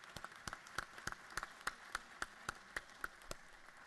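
Sparse applause from the audience in a state House chamber: a dozen or so sharp, distinct claps at a steady, slightly uneven pace, fairly faint and with no talk over them.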